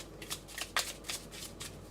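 Tarot cards being shuffled by hand in a series of crisp riffling bursts, repeated rhythmically for about two seconds, close and clear with no talk.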